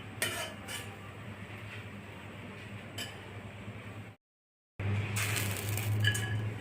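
Poppy seeds, cinnamon and cloves are roasted together in a pan, with a soft continuous scraping and rustle of stirring and faint clinks of a utensil, cut by a brief silence before it resumes.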